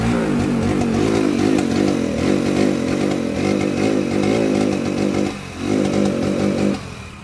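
Honda BS6 Splendor Plus motorcycle engine running with a misfire, a loud close buzzing drone broken by an uneven stumble and brief dip near the end before picking back up.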